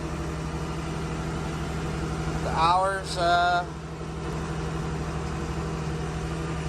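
A tractor engine idles at an auction with a low, even rumble throughout, and a brief burst of speech rises over it midway.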